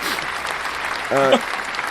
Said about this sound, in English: round of applause for you guys right now.